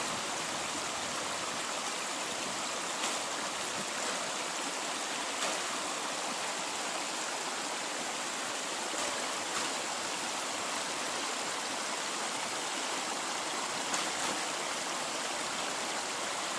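Water of the Zhene river streams past in a continuous, even rush, fairly close and moderately loud, with faint splashy flickers and no voices.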